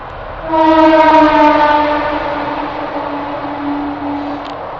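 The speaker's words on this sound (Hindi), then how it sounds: "ट्रेन निकल रही थी इसलिए रुक गया था" A train goes by with a loud, sustained horn blast that begins abruptly, then fades slowly into a continuous rumble of the passing cars, with no voices.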